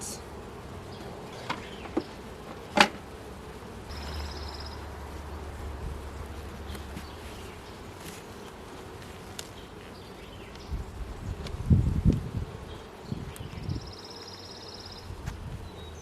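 Honey bees buzz softly and steadily around a hive in a quiet outdoor scene, with a few faint rustles and a brief louder knock near the end.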